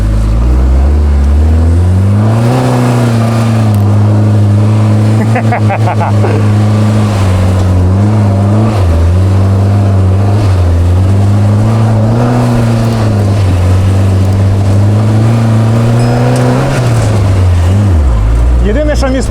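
A military off-road buggy with a loaded rear axle drives over rough ground, its engine revving loudly and steadily with pitch climbing and dipping between gears, close and dominant.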